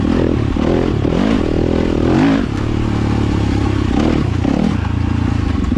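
A Yamaha YZ250FX dirt bike ridden at Cedar Creek, its engine loud and close with rising and falling revs through gear changes, harmonics sweeping up and down over a rough roar of wind and trail noise.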